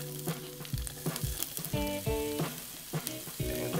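Onions sizzle in hot olive oil over medium-high heat, a steady close frying hiss broken by a few stirring knocks and clatters of utensil on pan.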